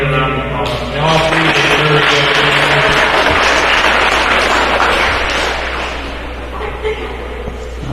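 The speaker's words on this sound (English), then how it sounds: "Everybody give a round of applause." Audience at a county fair poultry show applauding children after their judging: a long, loud stretch of dense clapping lasting several seconds, with a voice talking at the start and a steady hum underneath.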